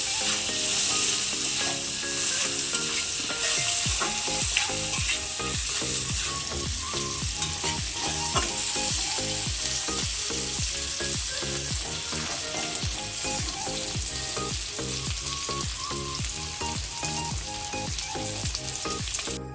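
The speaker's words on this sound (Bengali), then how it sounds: "দেখো বন্ধুরা, মাছগুলো এরকম নেড়ে চেড়ে একটু ভেজে নেবো মাছগুলোকে।" Koi fish frying in hot oil in a pan while being stirred and turned, a loud continuous sizzle with repeated scraping and clinking of the spatula, close up and without speech.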